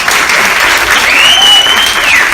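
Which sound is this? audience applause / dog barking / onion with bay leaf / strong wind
audience applause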